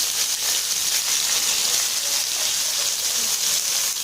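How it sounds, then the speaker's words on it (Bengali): Onion and bay leaf frying in hot oil in a pan, giving a steady, dense crackling hiss up close that runs unbroken and fairly loud with no talking. "তেল গরম হয়ে গেছে, তেজপাতা দিয়ে দিয়েছি, পেঁয়াজ দিয়ে দিলাম।"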